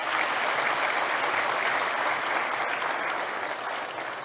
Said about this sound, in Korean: 존경하는 뜻으로 박수 한번 해주십시오.